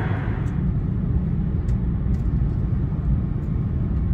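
An E2 series Shinkansen train running at speed, heard from inside the Green Car as a steady, loud low rumble and roar with faint rattles and creaks, no voices.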